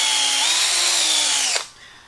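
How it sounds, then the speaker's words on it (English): A power drill spinning a Forstner bit through wood, a steady high whine for about a second and a half that cuts off abruptly and winds down, with no talk. "I'm going to try and drill a hole just absolutely"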